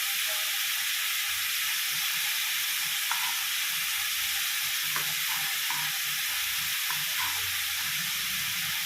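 Green chillies frying in a pan of tomato for a home-cooked Tamil lunch, giving a steady, even sizzle and hiss throughout, with a few faint clinks and stirring sounds but no talking.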